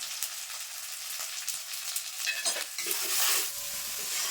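A spice paste of cumin, dried red chilli, turmeric, salt, ginger and garlic fries in oil as it is stirred, producing a close continuous sizzle broken by scraping strokes that swell louder in the last second or two.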